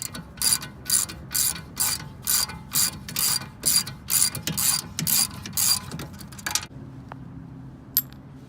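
A hand ratchet clicks in steady bursts of strokes while removing car suspension bolts, close and loud, then stops and leaves a quiet garage with a faint metallic tap.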